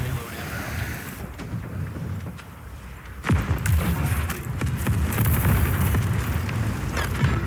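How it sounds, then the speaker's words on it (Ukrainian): Airstrike explosion in the Project CW video game: a sudden heavy boom about midway through, then a sustained loud rumble of blasts and debris that lingers to the end. "Давайте авіаудар спробуємо."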